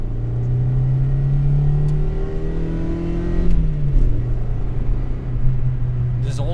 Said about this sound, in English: Really quick second gear pull.